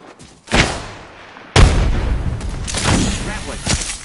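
A frag grenade goes off in Apex Legends: a sharp boom, then a second heavier blast about a second later with a long rumbling tail and scattered crackling aftershocks.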